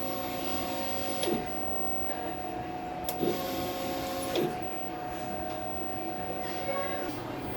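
An inkjet printer runs a nozzle check pattern, giving a steady mechanical whir with faint periodic clicks and carriage sweeps over a constant hum, recorded close up with no talking.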